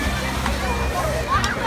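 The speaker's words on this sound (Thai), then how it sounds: "บางทีคนพัดท้ายเรือก็ใช้ ใบพาย สาดน้ำใส่คนริมฝั่งริมตลิ่ง" Water sloshing and splashing around a rowed boat on a canal, as a paddle throws water toward people on the bank; continuous watery wash with a couple of brighter splashes and busy background noise.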